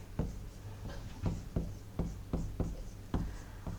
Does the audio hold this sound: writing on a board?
yes